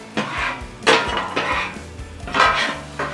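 A metal scraper drags across a Blackstone griddle in short, gritty strokes, three or four separate scrapes with clinking metal contact between them. The sound is close and moderately loud with no talking.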